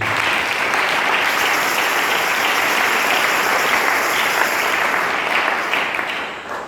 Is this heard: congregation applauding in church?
yes